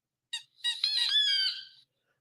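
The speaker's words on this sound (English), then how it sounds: "so squeaky, that's the little ducky." A squeaky rubber duck toy, a short squeak followed by a longer, wavering high squeal, loud and close with no talking.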